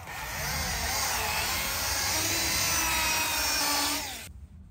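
A polisher buffs run-sanded paint on a C10 with fine compound, a steady whirring drone held loud and close for about four seconds before cutting off.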